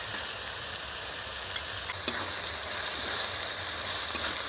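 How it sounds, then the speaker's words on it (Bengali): Onion paste stirred and fried in a pan for egg korma, an even crackling sizzle close up with two brief clinks of the spatula, no voices heard. "পেঁয়াজটা একটু নেড়ে নেব।"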